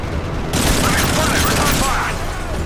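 Dense, loud gunfire rattles nonstop through a Call of Duty: Modern Warfare 3 battle in a European siege, automatic bursts blending into a steady roar with voices faintly underneath.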